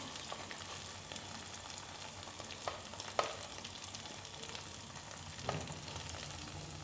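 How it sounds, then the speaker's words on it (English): Ground masala paste frying in a little oil in a pan for paneer butter masala, a steady soft sizzle with faint stirring scrapes and a few small clinks, heard alone at close range. "I have put some little oil on the same pan, and the ones which I grind, I put the whole thing into this"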